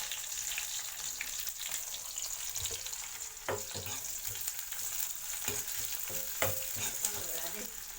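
Green chilies and onion sizzle steadily in a hot pan, a bright continuous frying hiss broken by scattered clinks and scrapes of stirring.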